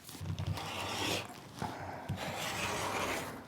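The edge of a quilted fabric placemat is trimmed along a ruler, producing quiet, close rasping and rubbing strokes with a few soft bumps, faint and with no speech.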